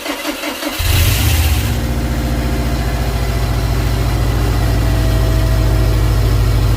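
A Subaru 2.5L engine cranks briefly and then catches, settling into a steady, loud idle that runs alone and close for the rest of the time.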